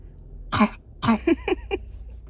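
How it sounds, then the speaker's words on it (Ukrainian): A child gives two strong coughs followed by three shorter, lighter coughs in quick succession, close by, with a low background hum. "А хто там кашляє?"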